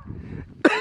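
A single sharp cough bursts out near the end, close and loud, after a stretch of low background murmur.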